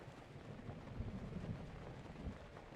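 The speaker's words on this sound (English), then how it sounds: "Oh, maybe he's not out because it's raining?" Steady rainfall in Breath of the Wild, a dense low wash of patter and rumble at an even moderate level with no voices.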